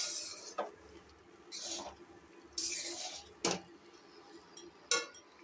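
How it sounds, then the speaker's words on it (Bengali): Fried rice being stirred in a pan for a chicken rice dish, with bursts of metallic scraping and clinks from the utensil against the pan, irregular and close, separated by quieter gaps with no talk. "এবারে মিক্স করছি।"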